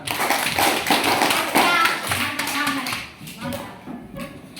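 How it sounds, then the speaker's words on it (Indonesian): Children in a classroom clap for a student after she works a math problem at the board, a burst of quick, uneven hand claps and taps with kids' voices chattering over them, fading toward the end. "Tepuk tangan dulu untuk ada Rizka"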